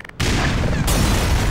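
A grenade blast in the video game Black Mesa lands as a sudden loud boom that stays heavy and roaring for over a second, close and with no voices.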